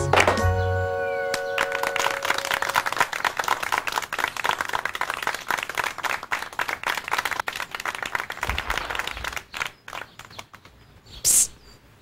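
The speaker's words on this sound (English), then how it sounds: "If you're happy and you know it, clap your hands" Hands clap along to a children's song, giving a dense, rapid run of sharp claps that thins into scattered hits near the end, with a short musical tone at the start.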